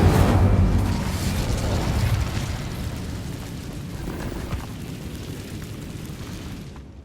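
Incendio fire spell cast in Hogwarts Legacy, a loud deep burst of roaring flame that decays into a rumbling crackle over several seconds, with no voices.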